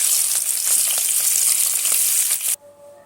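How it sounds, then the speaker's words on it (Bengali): Rohu fish pieces fry in hot oil, a dense, loud hissing sizzle with small crackles that runs steadily, then cuts off sharply near the end. "একই তেলের মধ্যে বাকি মাছগুলো একই রকম করে ভেজে নেব।"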